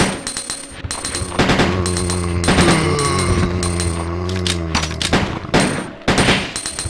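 Ada fires a gun in the PC version of Biohazard 2 on nightmare mode. Rapid bursts of sharp, loud shots come in repeated clusters over a sustained tonal music bed.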